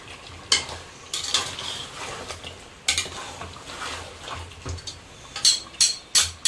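Meat frying in a pot for a home-cooked rice dish, with intermittent stirring scrapes and clinks over a low sizzle, several sharper bursts toward the end.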